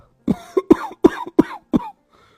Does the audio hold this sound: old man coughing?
yes